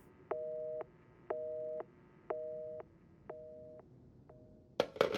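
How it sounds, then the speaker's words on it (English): A phone in Resident Evil 7 gives a repeating electronic two-tone signal, five evenly spaced beeps about one per second, faint and clean, ending in a short burst of noise. "we'll just get a lovely ringtone"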